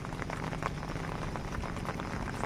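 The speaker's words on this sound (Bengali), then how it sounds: "বৃষ্টি হচ্ছে কন্টিনিউ এই এক সপ্তাহ ধরে বৃষ্টি হচ্ছে" Moderate rain pattering steadily on surfaces, a dense crackle of drops close by with no voices.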